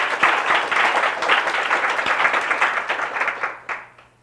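A warm round of audience applause for panelists at a news panel discussion, dense, close clapping that holds steady for about three and a half seconds before tapering off.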